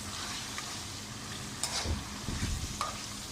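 Meat and masala for a karahi being stirred in a frying pan, a soft continuous sizzle with a few louder scraping clatters of the spoon near the middle and end.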